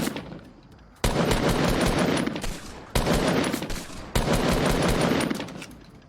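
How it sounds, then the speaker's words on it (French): Bursts of automatic gunfire from a PUBG battle ring out loudly in three long volleys, dense rapid shots with brief pauses between, fading toward the end. "Moi je flingue vers la droite"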